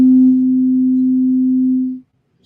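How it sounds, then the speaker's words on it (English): A plain synthesizer sine-wave note holds steady and loud for about two seconds, then cuts off, leaving near silence with no voice. "if I play just a basic sine wave"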